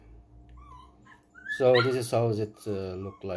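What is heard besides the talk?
puppies barking in the background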